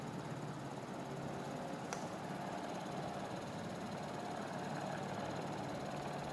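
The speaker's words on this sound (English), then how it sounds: "the motor is running and controlled with another PLDC controller." An energy-efficient three-dimensional BLDC motor running on 14 volts under a brushless controller, giving a steady, faint whirring hum throughout with one tiny click, no voice heard.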